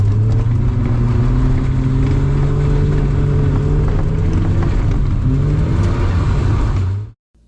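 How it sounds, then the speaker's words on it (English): A low-powered Mazda MX-5 drifting, its engine droning loud and close at sustained high revs with shifting pitch before cutting off abruptly. "Now I'll try to drift 2 hours in Mazda MX-5 with no horsepower"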